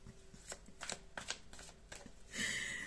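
Tarot cards being shuffled by hand in several quick riffling bursts, close and fairly quiet, with a louder rustle at the end and no talking.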